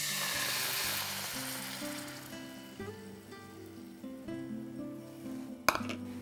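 Cooled, previously boiled milk poured into hot ghee in a pan sets off a loud sizzling burst that gradually settles, with a melodic background tune running underneath and a brief clink near the end.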